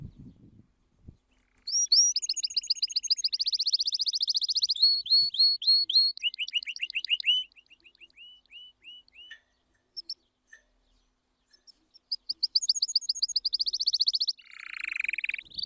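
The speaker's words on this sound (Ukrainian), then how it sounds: "прилетіли шпаки" Starlings chirp and twitter in rapid bursts of high, bright calls, close and loud, with short pauses between phrases.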